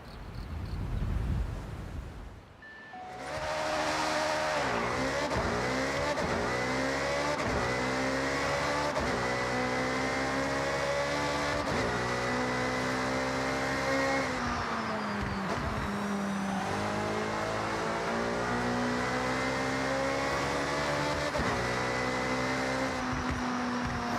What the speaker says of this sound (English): Let's drive my Ferrari maybe?